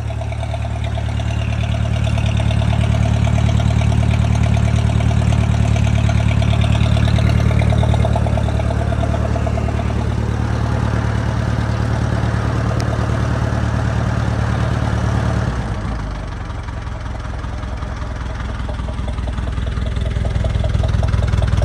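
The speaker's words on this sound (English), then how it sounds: "Good little engine." An International 230 swather engine idles steadily, a loud, even low rumble that drops slightly in pitch partway through and then continues.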